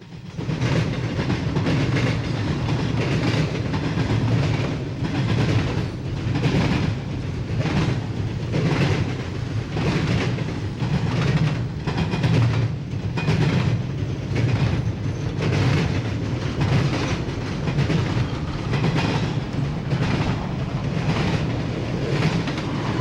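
A long Conrail TV2M intermodal freight train hauling trailers rumbles past up close, its wheels clicking over rail joints in a steady, regular rhythm under a constant heavy roar for the entire stretch.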